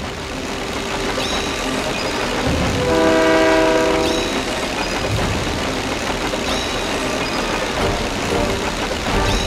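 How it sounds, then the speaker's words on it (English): A video game train rumbles along steadily while a loud horn blares for about a second partway through, with the rolling engine noise continuing afterward. "This train has heart"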